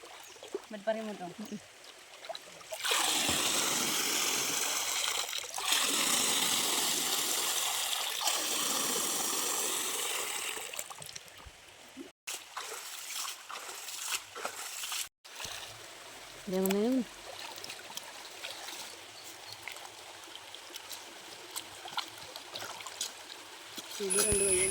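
A forest stream flows and splashes steadily while taro is washed in it, the water rushing louder early on and then settling to a softer trickle, with occasional handling sounds.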